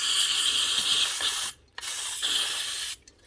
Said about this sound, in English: Put a contact cleaner.